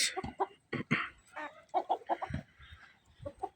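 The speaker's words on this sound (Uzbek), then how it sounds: "Bu xo'rozni biz sayr qildiraylik deb tashqariga chiqardik." Close-up clucking and short throaty calls from a Karez rooster, in irregular bursts with brief pauses, no crowing.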